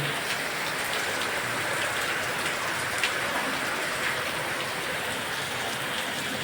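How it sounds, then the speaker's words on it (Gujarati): Heavy torrential monsoon rain pours down in a continuous loud hiss and roar, steady and dense throughout, with no voices. "હવે જોરદારમાં જોરદાર વરસાદ વરસે છે."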